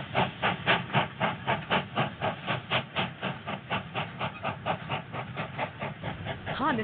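Steady hiss of steam machinery in a steam-powered spaceport, with rhythmic pulsing puffs repeating throughout like a working engine, fairly loud and continuous, no talk over it.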